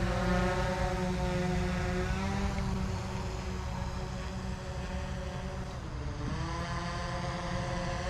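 DJI Phantom 4 Pro V2 drone hovering on its first flight, a steady multi-toned propeller whine with stacked harmonic hums that dip and recover in pitch as it moves, continuous and fairly close.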